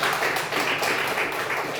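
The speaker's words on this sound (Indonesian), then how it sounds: "tepuk tangan dulu untuk teman-teman" Students in a vocational high school classroom clap for their classmates, giving a steady, fairly loud patter of many hands that fills the short moment.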